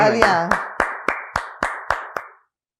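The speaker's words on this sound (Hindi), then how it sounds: "बहुत अच्छा तालियां" A brief burst of about eight crisp hand claps in a steady, even rhythm, close and fairly loud, on a Hindi-Urdu TV review chat show, following a short spoken phrase at the start.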